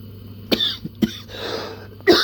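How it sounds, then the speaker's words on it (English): A person coughs in short separate bursts, three of them over a couple of seconds, close and fairly loud, with a faint hum underneath and no speech. "Still coughing a bit."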